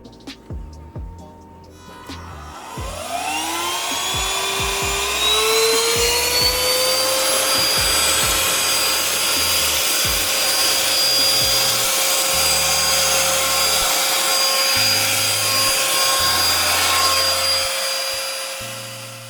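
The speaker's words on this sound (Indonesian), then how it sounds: "Memang dia nggak kenceng banget, tapi basicnya ini udah di atas wireless vacuum cleaner gue yang lain secara suara" A Xiaomi Mijia EraClean cordless vacuum cleaner spins up with a rising whine, then runs steadily with a loud, high-pitched motor hum until it winds down at the end.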